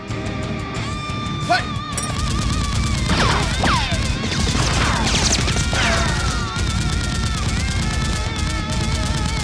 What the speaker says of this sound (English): Gunfire from downstairs echoes upwards.